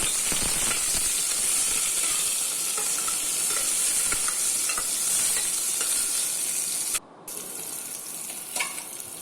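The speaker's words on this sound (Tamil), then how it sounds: "ஆனியனும், ஒரு ஆனியன் அண்ட் ஒரு சில்லி ஆட் பண்ணியிருக்காங்க. அது நல்லா வதங்கட்டும்." Onion and chili sauté in hot oil in a pan for mutton soup, giving a steady close sizzle with occasional stirring clicks, then a brief dropout before the frying resumes slightly quieter.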